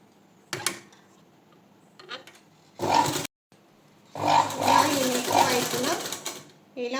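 A sewing machine running a normal presser foot while stitching thread piping along a neckline, in short bursts of whirring stitching with pauses between, fairly close.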